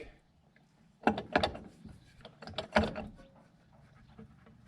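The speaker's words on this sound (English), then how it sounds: "Just gotta unthread these last two bolts and this thing should just slide right off." Ratchet wrench clicking while unthreading bolts, close bursts of rapid ratcheting clicks and metal handling, fairly loud, with no talking.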